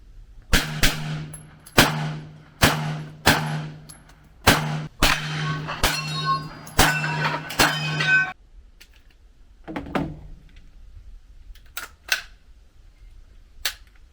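Gunshots at an outdoor shooting range in Montenegro, about ten sharp, loud reports in a fairly steady rhythm, then a pause and a few fainter distant cracks.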